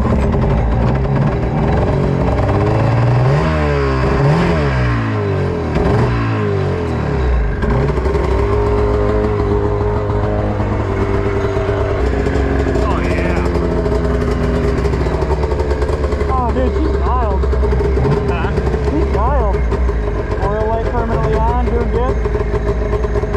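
A 1997 Arctic Cat ZR600 snowmobile engine fires up without choke, settling into a loud, steady run with rising revs throughout, while people talk over it nearby.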